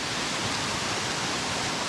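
Waterfall in Samaipata, Bolivia, pouring in a dense, steady broadband roar with no breaks, close and loud, with no voices over it.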